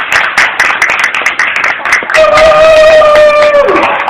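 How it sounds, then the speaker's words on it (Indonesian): An audience in a hall applauds for Medan at an Earth Day event, dense fast clapping that starts loud, then continues under music with a sustained tone. "Tepuk tangannya untuk Medan, mana tepuk tangannya?"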